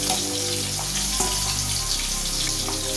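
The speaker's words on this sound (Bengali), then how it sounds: "আর এখানে মাছগুলো ভাজছি" Rui fish fry in hot oil in a pan, giving a steady, dense sizzle that runs unbroken throughout, close and fairly loud with no voices.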